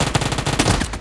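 Rapid automatic gunfire from PUBG Mobile, a dense rattling burst of repeated shots in quick succession, loud and continuous with no talk.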